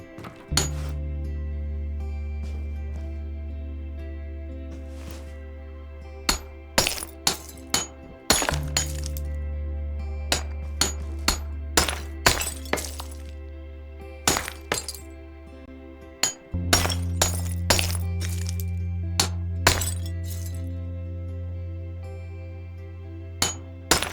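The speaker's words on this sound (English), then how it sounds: "I want to hammer something. Tiles. Hammer them off the wall." Tiles are hammered off a wall in a Berlin apartment: a long series of sharp, irregular cracking strikes with glassy clinks of breaking tile, ringing out over a steady low hum.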